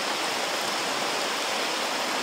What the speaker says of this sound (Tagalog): Lakas ng ulan nga tol.